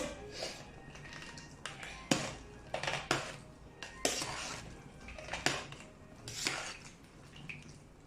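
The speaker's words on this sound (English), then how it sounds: "We'll give that now a nice stir." A spoon stirs salted chilies in a metal bowl or pot, making a series of close scraping clinks and taps in an uneven rhythm, fairly quiet overall.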